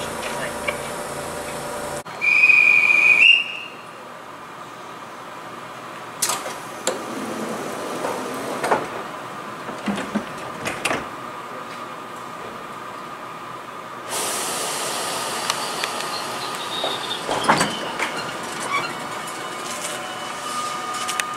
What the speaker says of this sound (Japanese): 高松岡山に向けて特急列車が出発していきます。